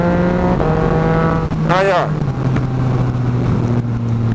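A remapped motorcycle fitted with a quickshifter holds loud, wide-open throttle while clicking through upshifts, its engine note dipping briefly at each shift and then climbing again. Someone says a couple of short words over it.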